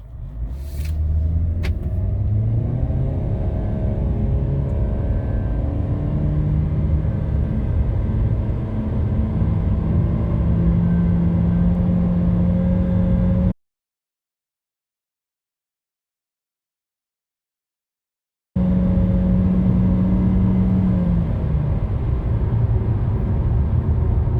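MG ZS 1.5L with a CVT accelerating from 0 to 100 km/h on winter tyres: a steady, loud engine drone and road rumble that rises gradually, then cuts out for a few seconds before returning.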